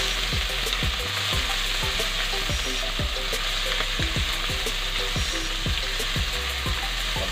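Pork liver sautés in a hot pan with chili and ginger, a loud continuous sizzle broken by regular scraping stirs, close and alone without any voices.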